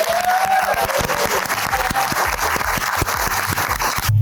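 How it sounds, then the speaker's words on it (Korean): A room full of people at a weekly stock-investment fund club meeting bursts into dense, sustained applause with some cheering, loud and steady throughout. "여러분 힘찬 박수로 시작하겠습니다"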